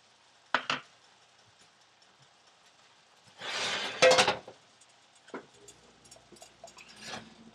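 Cooked mushrooms clatter into a bowl with shrimp for a quinoa risotto, heard as a few brief dish and utensil knocks with one louder, longer burst of scraping and clinking in the middle.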